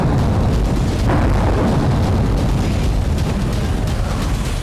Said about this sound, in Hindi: एयरबेस पर रह रहकर धमाके भी हो रहे हैं